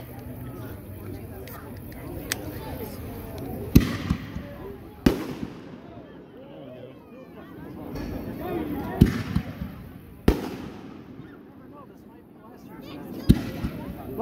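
FMJ firework shells launch and burst outdoors at a fireworks demo, several sharp booms and cracks spaced a second or more apart, with crackling tails and crowd chatter and talk underneath.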